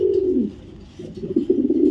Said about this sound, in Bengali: একটা শ্যাডেল রেসার এক জোড়া কবুতর